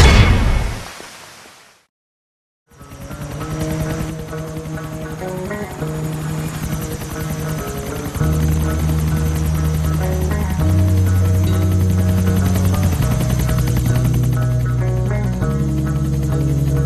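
Helicopter in the video game GTA IV: a loud, steady rotor drone with rhythmic blade chop and an engine whine, continuous and close after a brief silence, with music-like tonal layers running over it.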